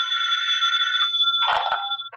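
A telephone rings in a radio drama: one steady, bright electronic ring that cuts off with a brief clatter as the handset is picked up.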